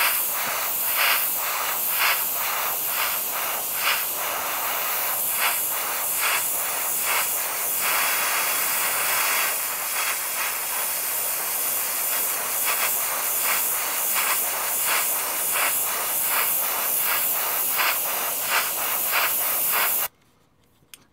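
An AK 0.3 airbrush sprays in a continuous close hiss broken by rhythmic pulses as the trigger is worked, then stops abruptly near the end.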